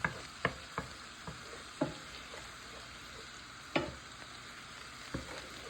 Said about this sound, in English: we're gonna throw in our andouille sausage. And we're cooking all this to go in the Brussels sprouts once again